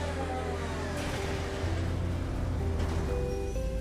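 A Grotti Visione supercar drives in a video game, its engine humming steadily with a low rumble and a few rising revs, heard close and alone without talk.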